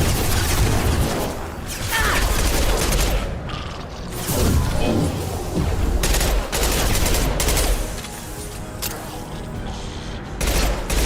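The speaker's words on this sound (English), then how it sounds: "Firing concussive shot!" Concussive shot fired during combat in the video game Mass Effect Legendary Edition, heard among repeated sharp gunfire bursts and booms that come and go in waves with brief lulls between them.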